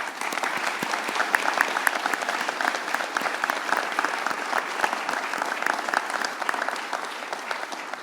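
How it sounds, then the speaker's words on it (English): Audience applause at an awards ceremony honoring institutions, a steady dense wash of clapping from a crowd that holds at an even level throughout. "Join me in giving our 10 Seal of Excelencia 2021 institutions a round of applause"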